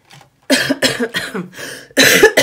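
A short burst of harsh, close coughing, several coughs in quick succession after a brief quiet moment, loud and near.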